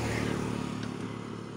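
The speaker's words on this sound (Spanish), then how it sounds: "la moto anda, la moto corre" A 2024 Pulsar NS160 motorcycle at top speed gives a steady, loud engine drone with constant wind rush, sustained close-up with no break.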